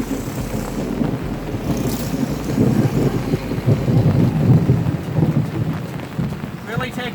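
A thunderstorm in a lightning-prone area brings steady heavy rain hissing on surfaces, with deep rolling thunder rumbling loudly through the middle and fading near the end.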